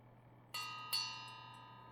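A meditation bell is struck twice, about half a second apart, each strike ringing out with a bright metallic tone that sustains and slowly fades.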